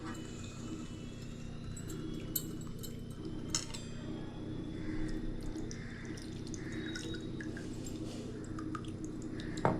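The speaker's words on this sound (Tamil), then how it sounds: "அரைச்சிட்டு வந்த பச்சை மிளகாவை வடிகட்டி எடுத்துக்கலாம்" Green chilli paste, ground fine with a little water, is pressed through a kitchen strainer while making murukku vathal. Soft wet dripping and squishing run steadily throughout, with occasional light metallic clinks and no voices.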